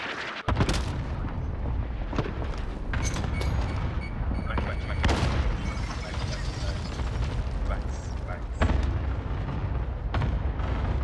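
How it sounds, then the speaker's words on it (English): Cluster strike explosions go off in a shooter video game, a series of loud booms and rumbling blasts spread across several seconds, with chattering voices mixed in over the barrage. "Enemy cluster strike incoming"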